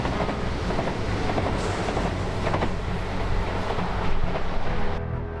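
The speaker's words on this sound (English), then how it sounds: "Look, here comes another coal train from the port of Rotterdam." A coal freight train from the port of Rotterdam rolls past on the Betuweroute, a Dutch freight-only railway through Barendrecht, a loud continuous rumble and clatter of wagons close by, steady throughout and cutting off near the end.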